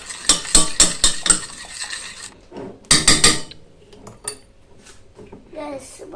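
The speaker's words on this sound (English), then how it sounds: "And all the time you need to mix it up until it's become bigger and lighter." A spoon clatters rhythmically against a bowl while mixing honey cake batter, a run of quick sharp strokes that pause and resume, with faint voices and kitchen noise between bursts.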